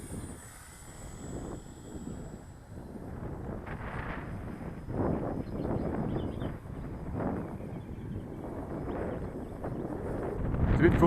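Gusty outdoor wind buffets the microphone in surging, uneven waves, mixed with the buzz of a model Cessna 182 aircraft flying nearby, and someone talks at times over the rough, rising noise.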